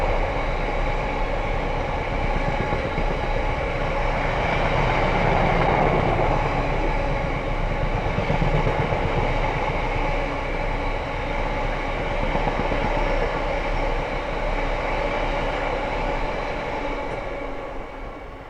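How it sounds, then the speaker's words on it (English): A Freightliner Class 66 diesel freight train passes on the Midland Main Line at Ayres End Lane, a loud, close, continuous rumble and rattle of wagons that swells and then slowly fades over about eighteen seconds, with no voices. "Looks like a freight train. It is indeed, no. It is indeed Freightliner"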